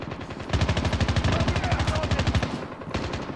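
Rapid, sustained automatic gunfire from a machine gun in the shooter game COD Mobile, a loud, evenly paced stream of shots lasting about two seconds, then a brief second burst.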